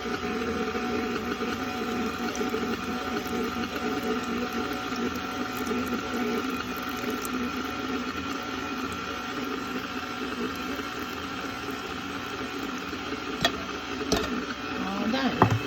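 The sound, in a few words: stand mixer mixing pan de sal dough as milk is added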